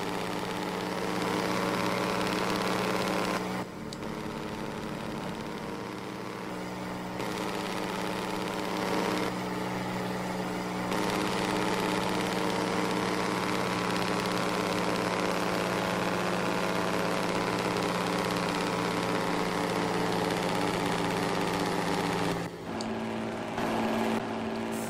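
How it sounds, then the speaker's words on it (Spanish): A Peterbilt 351 truck's engine brake in Euro Truck Simulator 2 rumbles as a steady low drone, holding for long stretches with a few abrupt cuts and restarts. "escuchar el freno de motor"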